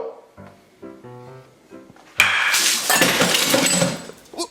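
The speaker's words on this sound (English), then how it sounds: "What was that crashing noise?" A glass of chocolate milk crashes into a kitchen sink, a loud sudden smash with clattering and ringing debris after a brief stretch of speech.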